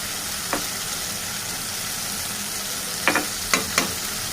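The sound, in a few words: stirring raw banana curry with chili powder in a pan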